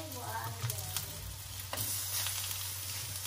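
Cooking oil sizzles in a frying pan with a steady, close crackle and a few brief clinks of a utensil, alone with no voices.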